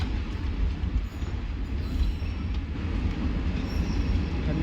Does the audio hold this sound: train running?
yes